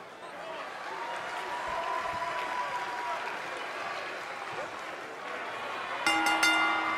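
A live wrestling arena crowd in WWE 2K20 applauds and cheers steadily, a broad roar of clapping, with a bright ringing music sting near the end.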